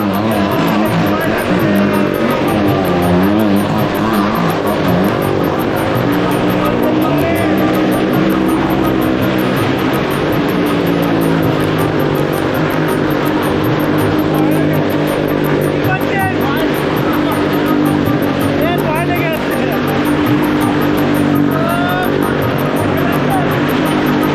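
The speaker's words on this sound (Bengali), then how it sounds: "এবার দেখবার পালা এই মারুতিটি কিভাবে এই কুয়োর মধ্যে চলবে" A Maruti car engine roars continuously and loudly as it circles nonstop inside a well of death at a village fair, its pitch rising and falling with each lap amid crowd noise.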